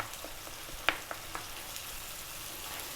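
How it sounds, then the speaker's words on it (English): Canned tomatoes going into a hot pan for shakshouka and being roughly broken up with a spoon, giving a soft, steady sizzle with one sharp tap near the start and a few faint spoon knocks. "We're now going to drop in 1 can of tomatoes. And just with my spoon, I'm going to roughly break them."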